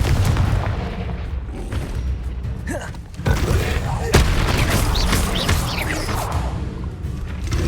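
Confringo blasting curse explosions in a Harry Potter video game, several heavy booming blasts with sharp impacts over rumbling game noise, with a voice speaking over the action.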